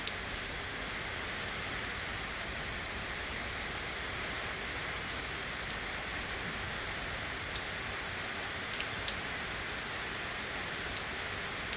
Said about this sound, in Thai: บ้าน น้องอิงมันมีฝนนะคะ